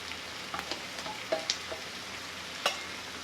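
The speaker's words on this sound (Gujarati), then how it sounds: "ડુંગળી અહીંયા સતળાઈ જવા આવી છે તો આપણે ટામેટા નાખીશું, કેપ્સિકમ નાખીશું," Onion sautéing with tomato and capsicum for paneer bhurji gives a faint, steady sizzle with a few light clicks and taps from stirring, quiet and close with no voices.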